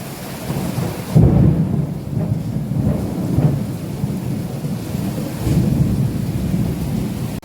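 Rumbling thunder rolls in several deep, loud waves over a steady wash of heavy rain, with no voices.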